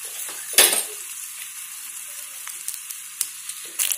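Dry red chilies hit hot oil for a ridge gourd peel chutney tempering, a sharp burst of sizzle followed by a soft steady frying hiss and a few light stirring clicks.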